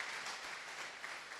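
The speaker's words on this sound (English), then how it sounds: "Shall we clap for Jesus?" Church congregation clapping together, a dense, steady wash of many hands over a brief moment, fairly quiet and even with no voices standing out.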